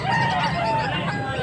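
A young rooster, a stag, crowing at a cockfighting arena, its wavering call rising over a noisy crowd of voices close by.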